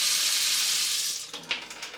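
Hot water from a tap runs steadily into a kitchen sink, a broad hissing wash that dips and turns splashier with a few brief clinks near the end.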